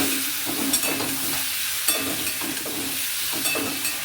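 Ingredients fry in a pan ahead of the pasta, a continuous close sizzle broken by a few scraping stirs at uneven intervals, with no one speaking.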